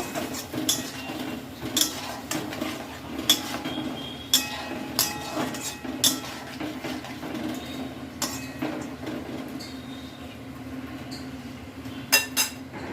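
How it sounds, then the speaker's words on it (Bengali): Ground coriander, cumin and chili powder being stirred with a little water in a pan for a mourala fish chorchori, with intermittent spoon clinks and scrapes against the metal over a steady low background hum, nearby and without talk. "এবার এতে অ্যাড করছি সামান্য জলটা দিয়ে আমি একটু নাড়াচাড়া করে নেব"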